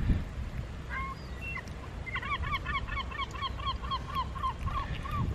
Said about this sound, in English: Didn't hear all these seagulls behind me.